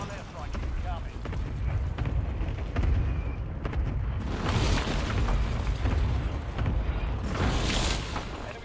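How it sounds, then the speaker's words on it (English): Heavy rumbling airstrike explosions in the Warzone battle royale game, sustained booming blasts rolling one after another, loud and dense, with game voice announcements over them. "Hostile airstrike incoming."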